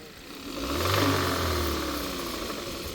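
Car engine revving up from idle during an oil pressure test on an engine with rod knock and low oil pressure, a steady close rise in low rumble that swells then holds, with no talking.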